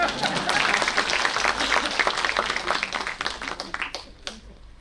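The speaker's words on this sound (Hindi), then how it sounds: "आप लोग चाहें तो तालियां बजा सकते हैं।" An audience at a Hindi-Urdu dastangoi storytelling performance claps in a full, even round of applause that gradually thins to a few scattered claps before fading out.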